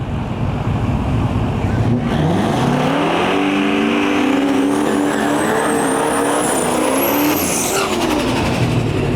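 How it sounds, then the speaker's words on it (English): A Duramax diesel-swapped Chevy Nova drag car revs hard in the burnout box and climbs in pitch, roaring close by with a rising whine near the end, continuous and dense throughout. "the big Duramax Powered Nova back in the burnout box"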